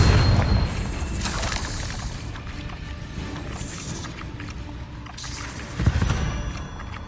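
A Confringo spell blast in Hogwarts Legacy, a game combat scene with booming impacts and mechanical rumbles, including a strong low thump near the start and another heavy burst late on.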